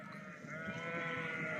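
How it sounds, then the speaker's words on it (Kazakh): Small lambs bleat softly and steadily, a faint, close, wavering cry with no talking. "Мынау бұндай қозылар әзір, мына кішкентай болып кетіп баратыр ғой."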